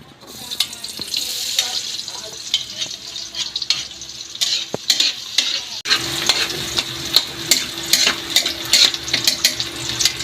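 Onions fry in a pan for adobo, a crackling sizzle under frequent scraping and stirring strokes. The sound is close and lively, and grows louder and denser after a brief break midway.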